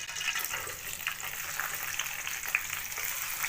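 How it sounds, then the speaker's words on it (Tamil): Sliced onions frying in ghee and oil, cooking to golden brown for Mughlai chicken, give a steady, close crackling sizzle with small pops and a bright hiss that never lets up. "இதை போட்டு நல்லா கோல்டன் ப்ரௌனாக பொரித்து எடுத்துக்கலாம்."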